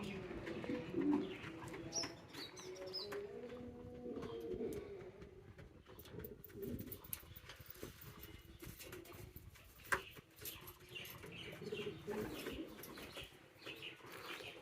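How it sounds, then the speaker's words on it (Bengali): A restless pet pigeon cooing in low repeated calls while wings flap and flutter in sharp bursts, close by, with other birds chirping faintly. "ডেঞ্জারাস লেভেলের একটা চটপটালো কবুতর"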